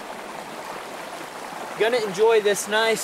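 Cache Creek water flows in a steady, soft broadband rush throughout, with someone speaking briefly over it near the end.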